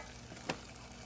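Flour roux cooks in a pan for a homemade cream soup, giving a soft, steady sizzle with one brief, sharp scrape or stir click midway; no voices.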